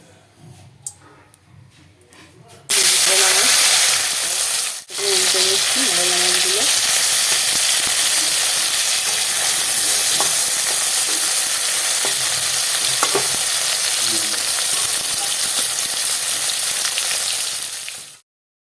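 Mourala fish, salted and rubbed with turmeric, frying in hot oil and being stirred, with a loud steady sizzle that starts abruptly and fills the whole stretch, spatula scrapes and stirring clatter over the top.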